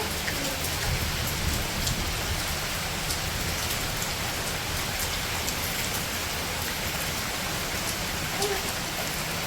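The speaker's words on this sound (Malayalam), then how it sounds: "നല്ല മഴ ആണ്" Steady, heavy rain pours down continuously, a dense hiss of drops hitting surfaces with no letup.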